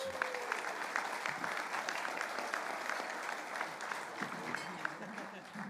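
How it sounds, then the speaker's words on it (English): Audience at the New Zealand First party convention applauding steadily, a dense continuous clapping from a distant crowd, with some talking mixed in. "Give them a round of applause."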